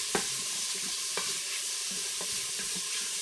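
Bacon browns in an Instant Pot pressure cooker on the sauté setting, a soft continuous sizzle broken by a few sharp clicks and stirring scrapes, with no talking.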